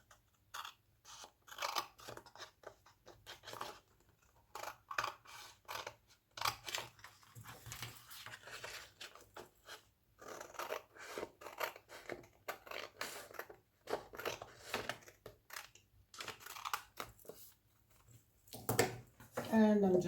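A paper folio tag being cut out with scissors: a steady run of short, crisp snips in irregular rhythm, close up and moderately loud, with brief pauses between cuts.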